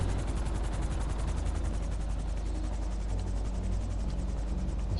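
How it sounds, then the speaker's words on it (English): A helicopter sets down in GTA V, with a steady rotor and engine drone and a mechanical, rattling texture that stays loud and constant the whole time, and no voices. "Helicopters are a little bit fragile sometimes on landing."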